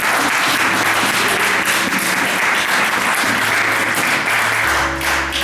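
Congregation applauding in a church, sustained loud clapping from many hands that keeps a steady roar throughout, with some voices faintly mixed in.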